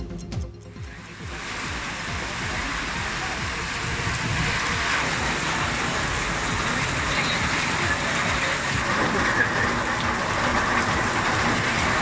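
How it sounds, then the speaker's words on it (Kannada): Heavy rain in a windstorm pours down as a dense, steady, loud roar that holds without a break from start to end. "ಜಿಲ್ಲೆಯಲ್ಲಿ ಸುರಿದ ಬಿರುಗಾಳಿ ಸಹಿತ ಭಾರೀ ಮಳೆಗೆ ಜನಜೀವನ ಅಸ್ತವ್ಯಸ್ತವಾಗಿದೆ"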